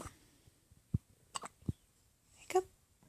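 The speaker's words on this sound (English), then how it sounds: "Now you have them all the time outside." A baby hiccups in a quiet room, several short, soft hiccups spaced irregularly with faint breaths between them, heard close and alone with no talking.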